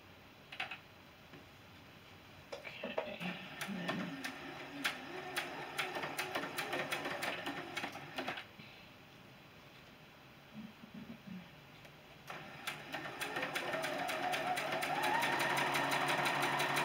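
A sewing machine runs in bursts while a quilt seam is chain pieced, its rapid needle rattle starting and stopping, then building to a steady, louder run near the end, close by with no talking.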